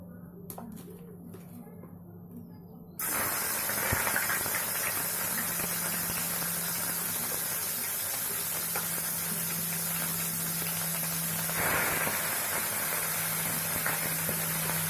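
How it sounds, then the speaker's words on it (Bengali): Hilsa fish heads frying in mustard oil in a wok on the stove: after a quieter start, a loud, steady hissing sizzle bursts in and continues without a break. "আমি সর্ষে তেল দিয়েছি মাছের মাথাগুলো ভাজার জন্য।"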